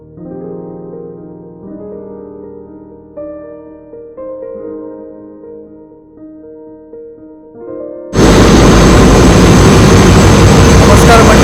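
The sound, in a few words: ship engine room oil purifiers running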